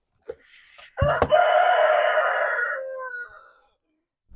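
A rooster crows once, loud and close, a long drawn-out call lasting about two seconds with a brief clatter at its start, set in a quiet outdoor garden during berry picking.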